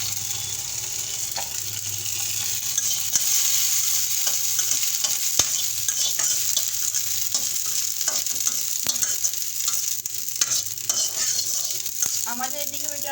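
Dried chillies fry in a wok with a steady, bright sizzle throughout, broken by light scraping and stirring clicks, close and fairly loud.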